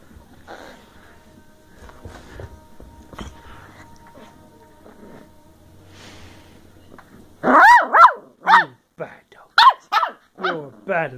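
A Bedlington Terrier puppy growls and lets out a burst of sharp, loud barks in quick succession after a quieter stretch, with a person speaking playfully nearby.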